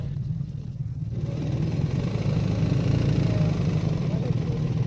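A BMW R 1300 GS Adventure motorcycle engine, stopped on a hill, with throttle being applied: a steady low rumble that swells after about a second and holds evenly, close and fairly loud.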